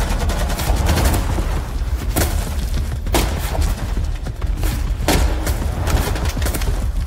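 Rapid gunfire from a video game, dense bursts of shots with a few sharper cracks rising out of a continuous loud barrage throughout.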